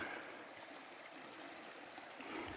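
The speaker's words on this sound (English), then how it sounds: "beautiful river stream" A river stream near Maligne Lake flows steadily in the early morning, a faint continuous rushing wash with no voices.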